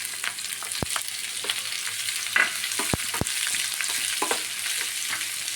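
Chopped onion and crushed shallots fry in a pan with ginger-garlic paste, giving a steady close sizzle throughout, broken by a few sharp clicks of a utensil against the pan.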